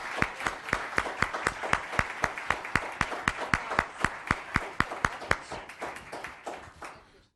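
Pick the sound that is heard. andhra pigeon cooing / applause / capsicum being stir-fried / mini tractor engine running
applause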